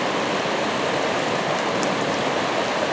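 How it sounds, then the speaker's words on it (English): Ballona Creek runs in flood during a rainstorm, a steady, loud, close roar of rushing water that stays unbroken throughout, with no voices. "today, with all the rain beginning, it is a torrent"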